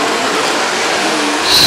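Midget race cars roar around the Bull Ring track during Saturday night Midget Nationals racing, a loud continuous engine drone that swells briefly near the end.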